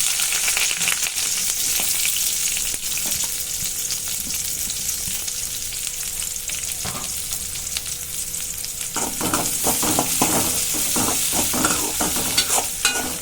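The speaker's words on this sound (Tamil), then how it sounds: "எல்லாத்தையும் போட்டு ஓரளவுக்கு நல்லா வதக்கிக்கோங்க." Onions and crushed garlic with fennel seeds and mustard seeds sizzle steadily in hot oil in a home kitchen, with intermittent stirring scrapes, growing busier toward the end; no talking.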